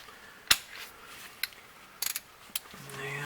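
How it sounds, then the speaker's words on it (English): A torque wrench set to 20 foot-pounds during an oil change on a 2014 Lincoln MKS 3.7 gives a few sharp, close metallic clicks spaced irregularly over quiet workshop background. "So I've got my torque wrench right here, set to 20 foot-pounds."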